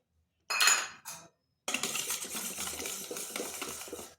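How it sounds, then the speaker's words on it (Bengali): Flour is mixed into eggless sponge cake batter in a steel bowl, starting with two short metallic scrapes and clinks. A steady spell of stirring follows, with a spoon scraping and tapping the bowl close by. "ময়দাটা ভালোভাবে মিশিয়ে নিচ্ছি।"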